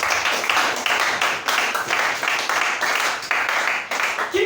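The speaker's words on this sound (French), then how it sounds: "Acclamez-le." Congregation applauding a pastor at a church gathering, a rhythmic burst of loud group clapping in short waves, fairly close and filling the room.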